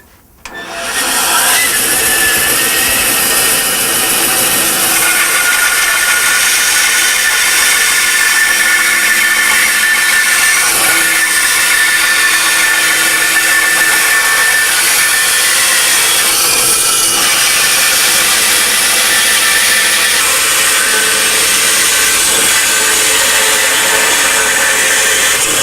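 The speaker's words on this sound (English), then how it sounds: "you want to turn the saw off again and let it come to a complete stop" Power saw cutting a small piece of wood, a loud continuous high-pitched whine and rasp that starts abruptly and runs steadily without a break, alone with no voices.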